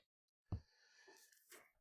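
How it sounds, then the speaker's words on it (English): A single sharp sneeze bursts out in a quiet room, brief and close, followed by faint breathy noise. "There's a lot of sneezing going on"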